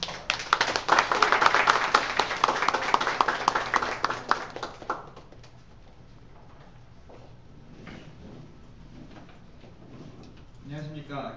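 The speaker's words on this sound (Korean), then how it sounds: "박수로 부탁드립니다." An audience at a startup venture presentation event claps loudly and densely for about five seconds, then the applause dies away into quiet room noise and a voice begins speaking.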